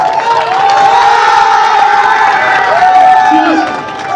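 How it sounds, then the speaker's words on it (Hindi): A crowd cheers loudly at a Republic Day ceremony at a police lines ground as the band platoon is called up, with a voice on the loudspeaker speaking over the noise throughout. "जोरदार तालियां, जोरदार तालियां।"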